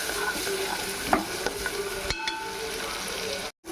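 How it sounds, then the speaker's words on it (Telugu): Tomatoes with turmeric frying in a pan, stirred with a ladle: a constant bright sizzle with scraping knocks of the ladle, close and steady, ending in a brief silent cut. "ఇదిగో ఒక్కొక్కసారి గరిటె పెట్టి తిప్పుకుందాం"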